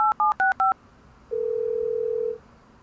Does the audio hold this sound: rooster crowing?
no